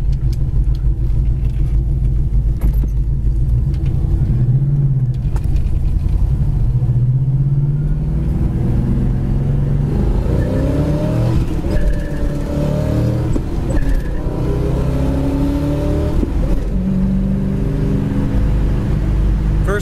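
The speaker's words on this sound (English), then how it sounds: "Fantastic sound of Nova." A 1970 Chevy Nova SS runs loud and close, its engine rumbling steadily and revving up through the gears as it accelerates, with a continuous throaty exhaust note that fills the whole stretch.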